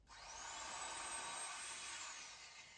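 An old Thor electric drill's motor whirs steadily at a high pitch, spinning up, running for a couple of seconds, then winding down, fairly quiet and close.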